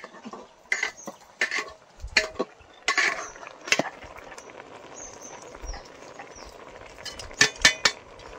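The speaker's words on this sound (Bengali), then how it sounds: "এবার ঢাকাটা খুলে ঢেঁড়সগুলো দিয়ে দেবো।" A pot lid is lifted and okra is dropped into rice cooking in a village kitchen, giving a series of sharp metallic clanks and clatters with scraping in between, close and clear with no talk.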